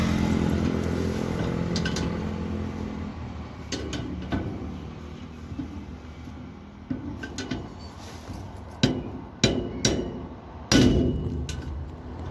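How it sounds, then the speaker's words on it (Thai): Metallic hammer blows on a chisel against a metal SOLEX padlock, a few scattered strikes then several sharp, loud hits in quick succession over a steady background hum. "หยิบค้อนกับสกัดขึ้นมาจัดการเลยครับ"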